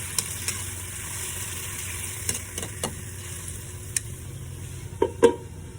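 Chicken liver and gizzards with garlic sautéing in a pan, a steady soft sizzle with a few light stirring clinks and taps, close and fairly quiet, without talk.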